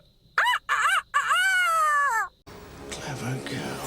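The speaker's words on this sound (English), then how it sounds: "Time to break out my rooster impression." A character in the video game Fire Emblem Engage does a rooster impression, three short rising-and-falling crow-like calls followed by one long drawn-out crow, loud and close, then game sounds and chatter.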